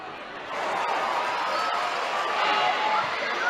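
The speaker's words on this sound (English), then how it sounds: "the crowd want a goal for her" A crowd at a women's football match between Chelsea and Manchester United roars in a steady, broad wash of cheering that swells after a brief quieter moment and holds loud to the end.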